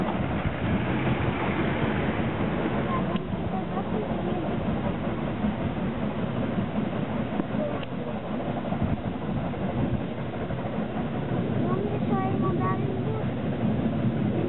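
Two steam locomotives run one behind the other on the Brienzer Rothorn Bahn mountain railway, a steady heavy chuffing and mechanical rumble with rail clatter that stays loud throughout, with faint talk in the background.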